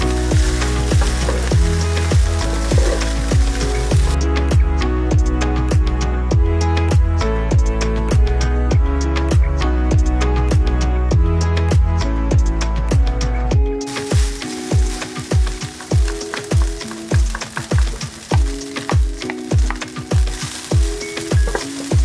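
Corned beef fried rice with spring onion being stirred and fried in a pan, loud continuous sizzling under rapid, regular scraping strokes of a utensil, the scraping becoming more distinct and rhythmic toward the end.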